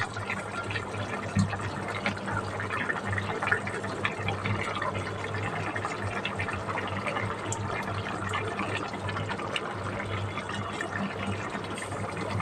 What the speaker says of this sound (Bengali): বন্ধুরা তরকারি ঝোলটা টকবক করে ফুটতে শুরু করেছে